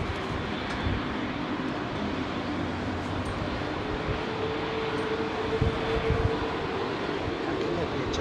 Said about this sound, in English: British Airways 380 now coming out for departure.